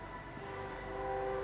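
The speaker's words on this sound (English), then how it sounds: "Oh, it's a train, everybody." Train rumbling past in Fallout 4, a steady low drone with sustained tonal hum, heard alone for a brief moment.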